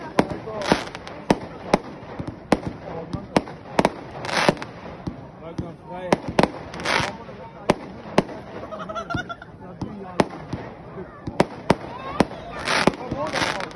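A Rubro Vuurwerk Knalontval 500-gram fireworks cake fires its 50 shots as loud, sharp bangs in an irregular run, some with crackling tails, while a voice talks in between.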